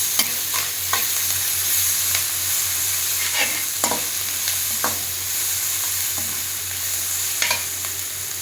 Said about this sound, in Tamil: இப்போ இதோட புதினா தழை, கொத்தமல்லி தழை சேர்க்கலாம். இதுவும் ஃப்ரை ஆகட்டும்.